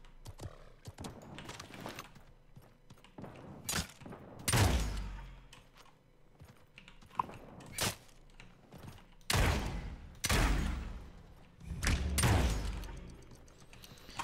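Bursts of gunfire in the Realm Royale battle royale game, several loud volleys and single sharp shots spaced irregularly across the stretch, with quieter clicks and shuffling between them.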